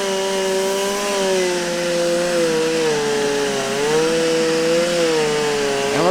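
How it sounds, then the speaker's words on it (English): Chainsaw with a dull chain, needing sharpening, running steadily as it cuts a bed into a tree during logging, a loud continuous engine drone with slowly shifting pitch and no talk. "we're gonna try and take our saw and cut a bed into it"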